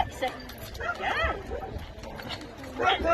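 A dog yips and whimpers in rising, whiny bursts while people talk nearby, the sounds close and fairly loud over a busy background.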